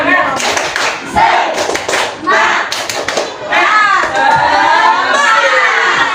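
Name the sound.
class doing a rhythmic spirit clap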